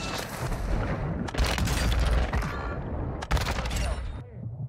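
Video game gunfire, dense rapid shots and booming blasts that run almost nonstop for a few seconds, loud and close, with a brief lull before a final burst.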